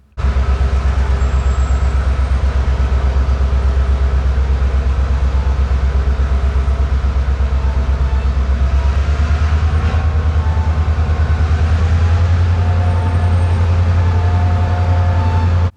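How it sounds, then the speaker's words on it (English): A loud, steady freight train rumble on the CSS Kingsbury Branch, with a deep engine drone and faint metallic squeals as it comes to a halt, holding constant before cutting off abruptly at the end. "they brought the train to a halt"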